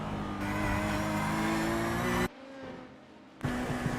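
LMP2 prototype race cars in the iRacing sim at Road Atlanta roar past with loud, sustained, buzzing engine tones. The sound cuts abruptly to a quieter, thinner engine drone, then the loud roar returns.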